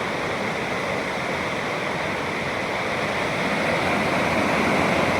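Loud, steady rush of fast-flowing floodwater in a village river, a dense continuous roar that swells slightly toward the end, with no voices.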